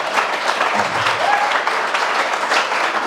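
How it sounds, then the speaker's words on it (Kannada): Steady applause from an audience at an academy event, dense, continuous clapping at full level for the whole stretch with no talk over it. "ನಾವು ನಿಮಗೆ ಚಪ್ಪಾಳೆ ಹೊಡೆಯೋದು."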